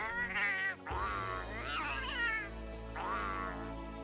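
Angry cat voice in a video game character creator, three drawn-out snarling meows in quick succession, loud and close, with game music underneath.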